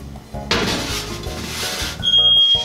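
A kitchen smoke alarm emits a piercing high-pitched electronic beep near the end, following a burst of rough scraping and rustling noise in the room.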